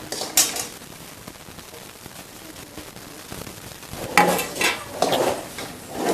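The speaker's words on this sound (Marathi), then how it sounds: "आता आपण यात खोबरं टाकू" Grated fresh coconut is tipped into thickened sugar syrup in a pan for a coconut barfi, giving a few clattering scrapes and clinks of utensil on metal, quiet at first and then louder in a cluster of stirring knocks toward the end.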